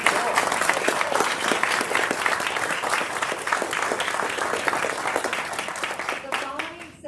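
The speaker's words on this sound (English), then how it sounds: "Please join me in a round of applause for these outstanding awards." An audience at a military town hall awards ceremony claps steadily for honorees, a loud sustained round of many hands that fades near the end as a voice resumes.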